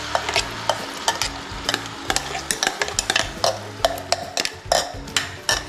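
Ground spice paste hitting hot sunflower oil in a pan for an egg and yogurt curry, giving a steady close sizzle broken by repeated stirring scrapes and clinks of a utensil against the pot.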